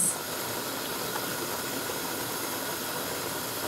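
Onions softening in a covered pan as samosa filling simmers, giving a steady, even hiss that holds at one level from start to finish with no voices.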